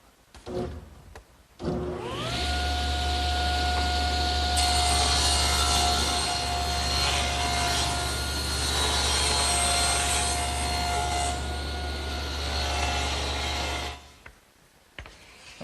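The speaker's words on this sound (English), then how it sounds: "Now I'm going to move the fence about 1/8 of an inch closer to the blade, turn them end for end, and run the other edge through." A table saw rips along a board edge after the fence is set slightly closer to the blade. The motor spins up, holds a steady loud whine with low rumble as the cut runs for about twelve seconds, then winds down.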